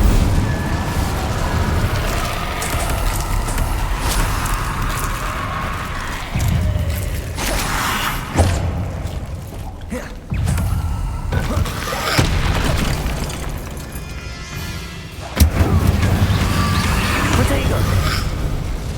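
Fire spells and blasts cast in the Hogwarts Legacy video game, a series of loud booming bursts and whooshes spread across the stretch, with sharp hits near 8, 10 and 15 seconds over continuous game sound and talking.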